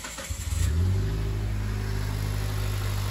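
A car engine cranks and catches after a rocker cover gasket replacement, a brief starter churn giving way to a rising rev that settles into a steady, close idle hum.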